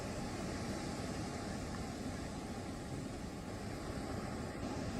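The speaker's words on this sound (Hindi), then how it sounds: "नदी का उफान इस कदर तेजी के साथ है, इस तरीके से उसका बहाव देखने को मिल रहा है" Swollen river in Sikkim rushing in flood, a loud, steady broadband roar of churning water that fills the whole stretch without letup, close and continuous.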